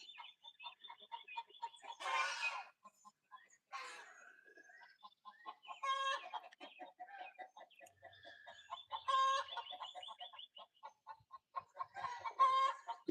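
Chickens and a rooster cluck and call in a backyard coop, with several bursts of fowl chatter and crowing-like squawks overlapping at close range across the scene, no talk.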